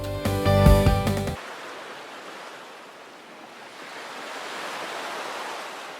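At Seonnyeobawi Beach in Eulwang-ri, Incheon, ocean waves wash in a soft, broad hiss that swells gently, following a brief burst of music at the start.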